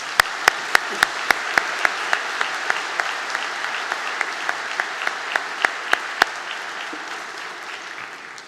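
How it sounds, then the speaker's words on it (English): Audience applause at a university spring convocation ceremony in a concert hall, steady clapping from a large crowd, heard from a distance with a few sharp close claps standing out. "Let's give him a round of applause."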